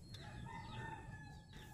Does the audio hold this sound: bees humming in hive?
no